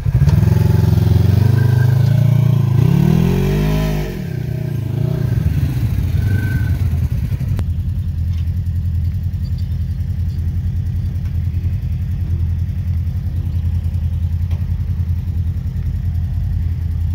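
An off-road vehicle engine revs while wheeling through spring snow, loud and close, with a rising and falling rev early on before settling into a steady, rumbling drone for the rest.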